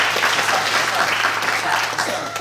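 Audience applause in a public library during a music performance, a steady broadband patter of many hands clapping at close range for the full length, with faint voices mixed in.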